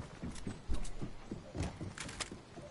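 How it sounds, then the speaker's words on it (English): Footsteps in the video game Fortnite, a series of irregular soft thuds and scuffs spread across a few seconds, moderately loud and close in the game mix with no talking over them. "I hear footsteps."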